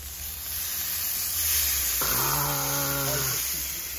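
Steady broadband sizzling hiss of steak searing on a hot cast iron grill grate, close up, with a brief tonal humming sound rising over it midway.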